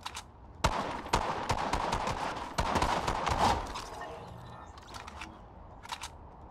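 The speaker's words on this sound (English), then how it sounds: "I was trying to shoot him with a flipping pump miles away" Pump shotgun fire in the Fortnite video game: several sharp, loud blasts spaced about a second apart, with game noise under them, fading to quieter rustle toward the end.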